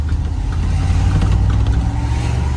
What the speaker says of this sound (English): if I throttle it, I mean, it gets up in the RPM